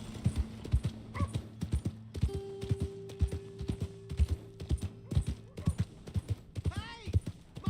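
Horse hooves clip-clop in a steady rhythm within the Red Dead Redemption 2 video game, with a whinny near the end and a sustained tone partway through, while a voice speaks briefly.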